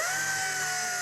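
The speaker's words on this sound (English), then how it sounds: "I got this little mini 3-inch orbital sander, and I'm gonna clean this up" A mini 3-inch orbital sander with 80-grit paper runs against motorcycle paint, giving a brief, steady, close, high motor whine that holds an even pitch throughout.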